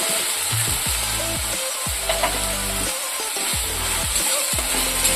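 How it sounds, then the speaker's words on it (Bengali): Tomato paste frying in a pan with a loud, continuous sizzle, while a spoon stirs and scrapes through it in repeated strokes, close up, with no talking. "ভালো করে নাড়াচাড়া করে চেঁচিয়ে নেব"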